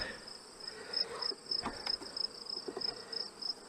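Honey bees buzz around an opened hive during a honey pull, a faint, steady insect drone with a high whine, punctuated by brief close rustles and knocks.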